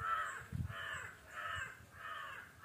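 Several crows caw in a steady rhythm, four long harsh calls in under three seconds, moderately loud and outdoors near a house garden, with no talking.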